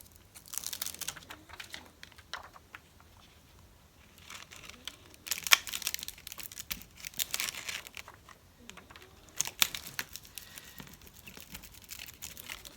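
Fingers rub down a piece of waxed ribbon in soft crinkling, scratchy bursts that come and go in short bouts, close and quiet, with no talk.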